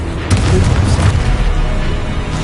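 Blasting-spell explosion from a Hogwarts video game: a dense, booming burst with a rolling rumble that fills the whole moment, loud and close, with no talk over it.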